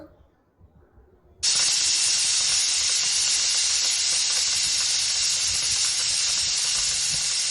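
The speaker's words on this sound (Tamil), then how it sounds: "நமக்கு 3 விசில் விட்டால் போதும்." A pressure cooker holding chicken curry suddenly bursts into a loud, steady hiss of escaping steam after a second of quiet, then blows without a break to the end.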